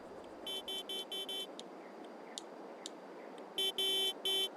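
Modded beeper of a NIR sensor in Farming Simulator 22 sounds in loud, evenly spaced electronic beeps: four rapid bursts at the start, then a quieter stretch with scattered faint blips, then three louder beeps near the end.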